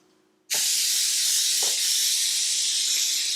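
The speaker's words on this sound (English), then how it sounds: "I'm going to spray the pan lightly" Baking spray jets onto a cheesecake pan in one loud, sustained hiss that starts abruptly and carries on steadily. It sounds close and stands alone.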